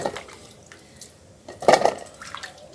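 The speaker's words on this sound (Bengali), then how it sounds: "বন্ধুরা, আবার আমগুলো ধুয়ে নিচ্ছি।" Green mangoes are washed by hand in water, giving a few soft drips and one brief, louder splash and slosh against quiet surroundings.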